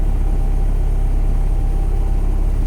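An untuned H2B engine with a K series manifold idles in a car, a steady loud low rumble throughout with no speech.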